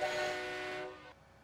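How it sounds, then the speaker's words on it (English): A tractor air horn in Farming Simulator 19 blows one steady, loud, sustained tone for about a second before cutting off, with no talk over it. "Give Patrick a good little blow of the air horn while we go by."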